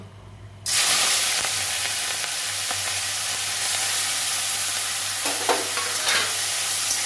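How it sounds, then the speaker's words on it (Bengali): Prawns frying in mustard oil in a wok, a loud sizzle that bursts in suddenly and holds steady, with occasional stirring scrapes and spatters, heard up close without speech. "সর্ষের তেল দিয়েছি কড়াইয়ে আমি চিংড়ি মাছগুলো ভেজে নিচ্ছি"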